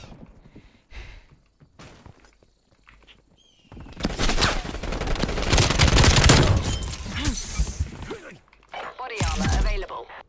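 AK-74u gunfire in Call of Duty Black Ops Cold War: loud, dense bursts of close shooting mixed with impacts and shattering, with a voice talking before and between the volleys.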